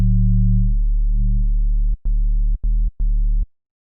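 A deep synthesized sine bass tone hums steadily, then is chopped into a few short repeated notes with clicks between them before stopping.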